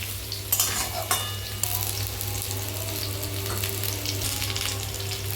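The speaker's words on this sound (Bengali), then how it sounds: "ভালো করে নেড়ে হালকা ভাজা হলেই গুড়টা দেবো" Mango pieces sizzle steadily in a pan while a utensil stirs them, with a few sharper scraping knocks near the start.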